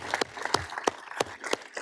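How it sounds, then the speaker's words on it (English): Scattered, sparse clapping from a city council meeting audience greeting their leader, a handful of separate claps with uneven gaps rather than a full ovation. "giving our leader a unified round of applause"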